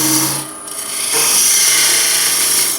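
A parting tool cuts into a spinning wooden lidded box blank on a lathe, a steady hissing, scraping shear that dips briefly, then resumes, close and loud.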